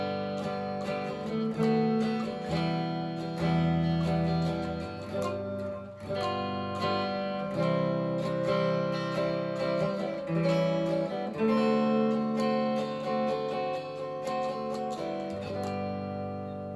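A guitar plays a jazz-styled chord progression built on secondary dominant seventh chords, with steady, ringing chord changes every second or two over about seventeen seconds and no talking.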